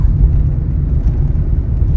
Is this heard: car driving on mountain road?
yes